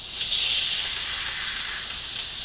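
A pressure cooker, used while making homemade applesauce, vents hot steam in a steady, loud, close hiss that holds from start to finish with no voices.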